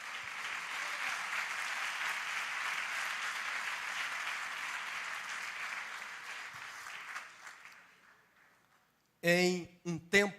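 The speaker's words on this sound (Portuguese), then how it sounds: "aplauda o Senhor pela sua palavra" A church congregation applauds after a sermon, a sustained wash of clapping that slowly thins and fades out over several seconds, followed by someone speaking.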